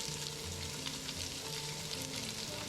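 Onions and a little oil sizzle steadily in a pan while being stirred, a constant close frying hiss with no talk.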